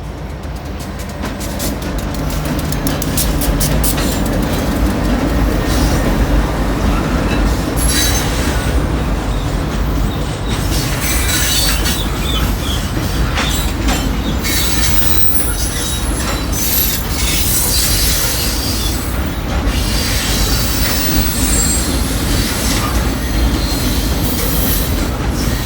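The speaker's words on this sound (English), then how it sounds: "All right, check it out. Got a grain train" A long loaded grain freight train rumbles steadily past at close range, wheels clattering on the rails with occasional metallic squeals, loud and continuous throughout.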